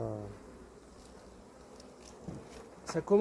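Honey bees at a hive give off a faint, steady buzz that hums along quietly, and a voice briefly joins near the end.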